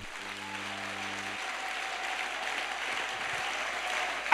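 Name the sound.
congregation applauding in church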